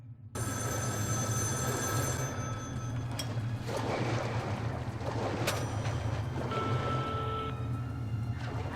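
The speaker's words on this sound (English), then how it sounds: "Is that a phone? I think it's for you." An old telephone bell rings in the video game Metro Last Light, shrill repeated ringing over a droning low hum and wind-like noise, with no voices.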